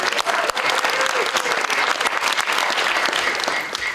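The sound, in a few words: audience applause at a lecture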